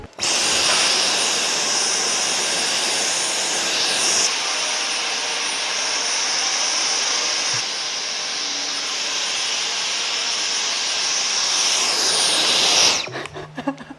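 A Dyson Micro 1.5 kg cordless vacuum cleaner runs continuously, a loud high-pitched whine with airy rush that shifts slightly in tone as it cleans indoors, then cuts off near the end.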